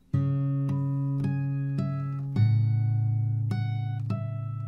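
Fingerstyle acoustic guitar plays the bridge of a song, with soft plucked notes arriving one by one over ringing bass tones, gentle and close, no voices.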